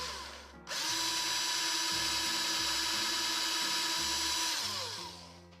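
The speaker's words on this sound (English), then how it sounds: "what I'm going to do is drill this hole a little bit deeper" A power drill bores deeper into a hole in a small electric-guitar truss rod cover, whining steadily at close range for about five seconds before spinning down, with no talking.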